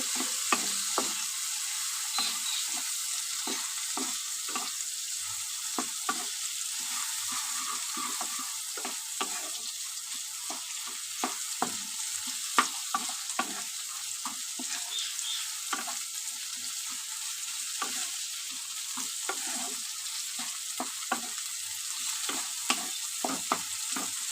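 Neem leaves and eggplant fry with turmeric in a pan, giving a long, fairly quiet, even sizzle scattered with frequent small crackles and light stirring clicks, with no one speaking.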